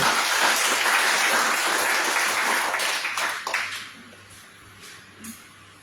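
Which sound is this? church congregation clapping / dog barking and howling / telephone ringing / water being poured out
church congregation clapping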